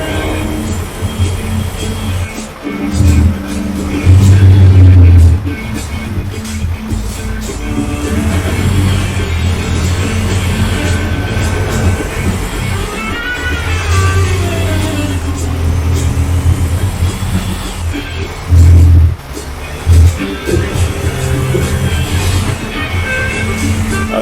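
Simulated truck engine in Euro Truck Simulator 2 (open beta 1.37), a steady, close droning rumble that holds throughout, with a few brief swells of deeper low-end roar.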